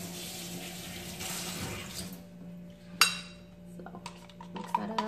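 Spicy cucumber salad is being mixed with concentrated tamarind liquid in a bowl, with a steady wet rustle giving way to scattered clinks and taps of utensils against the dish, fairly close and without talk.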